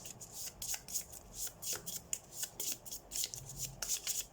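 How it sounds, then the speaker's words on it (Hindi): Soft, rapid papery riffling from a very small tarot card deck being shuffled by hand, in uneven bursts of flicks and rubs, close and fairly quiet with no talking. "सो ये ना मुझसे शफल नहीं हो रहा है अच्छे से।"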